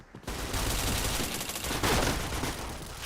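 Loud, sustained automatic gunfire from a shooting video game, a dense rattling volley that begins abruptly after a brief pause and continues throughout.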